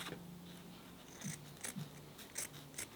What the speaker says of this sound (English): just come back with a pair of scissors and just cut right along this edge